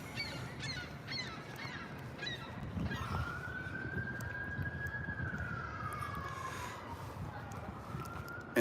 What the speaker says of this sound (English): We can hear the sirens in the background.